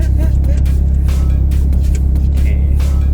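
Mitsubishi Lancer Evolution 5 engine idling low and steady with a deep rumble, slowly pulling away from standstill on a manual clutch, with a person talking over it.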